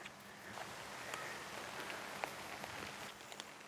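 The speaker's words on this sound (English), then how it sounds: "Well, so much for no rain." Rain falls outdoors as a soft, faint patter with scattered drop ticks on surfaces, steady throughout with no talk.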